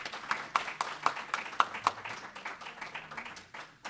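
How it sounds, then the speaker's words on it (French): An audience at a conference debate in a Hilton hotel ballroom claps, with sharp distinct claps at a fairly regular beat and scattered applause around them that fades toward the end. "je vous demande de l'applaudir très fort"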